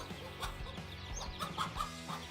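A mother hen clucks repeatedly and agitatedly while fighting, close and fairly loud, with short sharp calls coming in quick irregular bursts.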